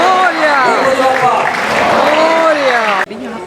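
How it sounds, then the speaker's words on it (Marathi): A crowd claps steadily at a Ganeshotsav celebration in Frankfurt, Germany, while voices chant together over the applause. The clapping fades sharply near the end. "सो तुमच्यासाठी एक जोड टाळ्या वाजवा"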